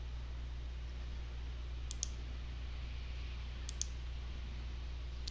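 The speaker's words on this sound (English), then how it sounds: "All I'm doing is clicking onto the image itself." Computer mouse clicks while editing an image in Photoshop: two quick double clicks, a couple of seconds apart, faint and crisp over a low steady hum.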